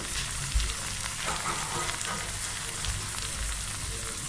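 Sliced potol (pointed gourd) frying in a pan, a steady close sizzle with continuous crackling and no voices.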